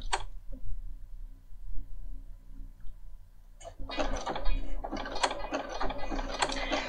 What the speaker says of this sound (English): I'm going to do the zigzag down the next side.